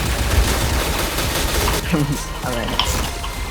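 Constant gunfire from the online shooter Point Blank hammers on for the whole short stretch, loud and dense, while a voice talks over part of it.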